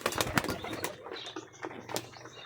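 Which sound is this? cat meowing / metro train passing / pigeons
pigeons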